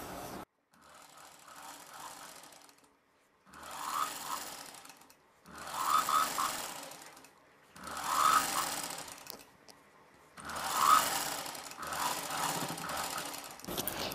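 A sewing machine stitches piping onto a blouse neckline in several separate runs of steady mechanical whirring, each a few seconds long with short pauses between them, close and moderately loud.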